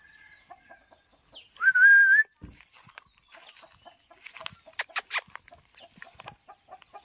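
Chickens on a semi-free-range pig farm, with soft scattered clucks and scratching throughout, a whistle in the middle, and a few louder clucks near the end, all faint and fairly distant.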